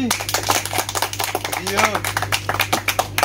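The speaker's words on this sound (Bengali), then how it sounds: "হাততালি" Hands clap in a quick, uneven patter of sharp claps during an indoor bottle flip challenge, mixed with lively voices and talk close by.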